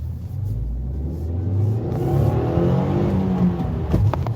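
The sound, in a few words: 2020 Subaru WRX shaking as the clutch is released early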